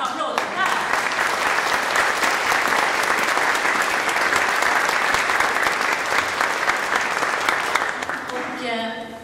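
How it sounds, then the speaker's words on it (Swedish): Warm, sustained applause from a Christmas concert audience fills the hall, dense and steady for about nine seconds before tapering off at the end. "En varm applåd, Per!"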